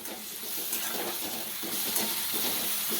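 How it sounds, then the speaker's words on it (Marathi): Chopped garlic and green chili sizzle steadily in a hot pan for moong dal, a continuous close hiss with faint crackles throughout and no voices. "लसूण आणि हिरवी मिरची यामध्ये बारीक केलेली टाकते हिरवी मिरची टाकली"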